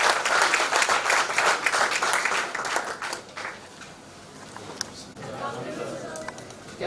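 An audience at a Mandsaur University event claps loudly for the chief guest, Aaj Tak executive editor Shams Tahir Khan. The dense applause fills the first few seconds, then thins into scattered claps and quiet room noise.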